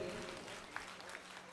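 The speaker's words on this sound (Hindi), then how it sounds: "पहले कवि के लिए आपकी थोड़ी अतिरिक्त तालियां" Audience at a poetry gathering during a temple fair festival gives a brief burst of clapping for the first poet, a dense, fairly faint patter of many hands lasting about a second and a half.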